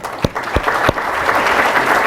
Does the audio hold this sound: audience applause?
yes